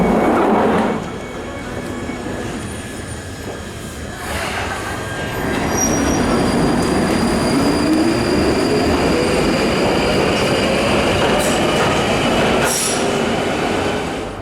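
A train at King's Cross, the London terminus of the East Coast Main Line, rumbles loudly and close by, its wheels squealing in a rising whine over steady rail noise and clatter, with no one speaking.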